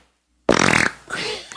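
A voice imitates a fart with the mouth: a sudden loud buzzing raspberry of about half a second after silence, followed by a softer trailing breathy noise, close to the microphone.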